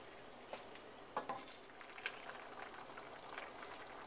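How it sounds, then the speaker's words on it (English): Cashew chicken boils in a pot on the stove, giving a steady, soft bubbling hiss with small irregular pops throughout, faint and close, without any speech. "My cashew chicken is boiling"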